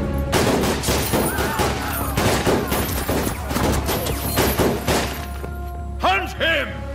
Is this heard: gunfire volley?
yes